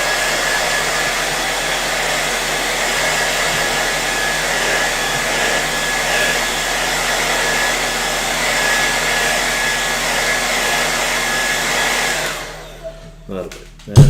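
Hair dryer blowing steadily and loudly for about twelve seconds while drying paint on a painted shop-sign artwork, then switching off, leaving a few faint handling knocks.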